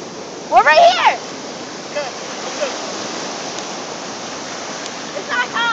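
Ocean waves and surf wash steadily at a beach, a constant broadband rush running through the whole stretch, while excited voices shout and call out over it near the start and again at the end.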